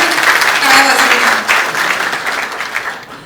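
Audience applause fills a hall, a dense steady wash of many hands clapping together that fades slightly toward the end, with a faint voice or two underneath.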